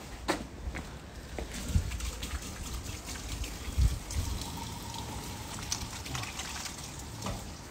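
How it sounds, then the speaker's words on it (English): Running water trickles and splashes faintly as a chopping board is washed under a tap in a busy kitchen, with a steady low stream broken by occasional clunks and knocks. "let me just wash these"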